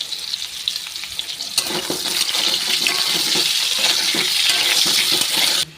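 Meat and potatoes fry in a pan with a steady, loud sizzle, stirring clatter and scraping breaking through, then the frying cuts off abruptly near the end.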